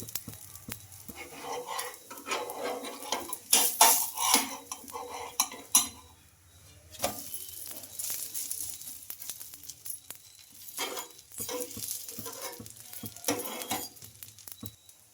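Dosa frying in oil on a pan, a sizzle running under steady clinks and scrapes of a spatula and utensils, with louder stirring and scraping bursts that come and go over the cooking.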